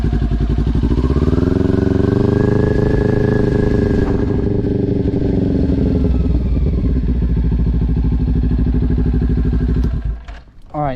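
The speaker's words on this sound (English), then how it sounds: "I'm going to start the bike up." Motorcycle engine started up and idling steadily up close, a loud continuous rumble with a brief rev, then cut off near the end.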